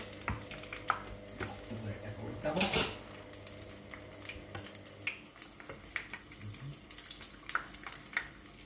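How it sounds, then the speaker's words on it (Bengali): Soft, continuous sizzling of pumpkin flowers frying in oil, with occasional clinks of utensils against a pan and a brief louder scrape. "ভাজা হচ্ছে"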